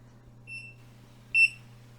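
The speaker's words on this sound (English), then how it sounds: "Once it beeps, again move it down." A TYMO Rovy hair waver gives a short electronic timer beep, a faint brief chirp followed by a louder, clear tone about a second later over a low steady hum.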